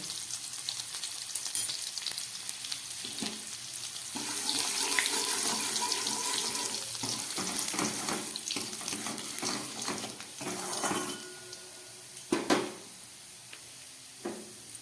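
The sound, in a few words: garlic frying in oil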